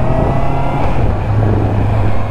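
A Honda CB650R motorcycle pulls away from a dealership, its engine a loud, close, steady roar with a continuous low drone and rushing noise across the short stretch.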